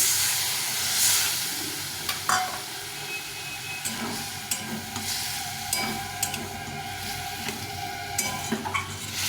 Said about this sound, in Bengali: জল দিয়ে এটাকে ভালো করে কষিয়ে নিতে হবে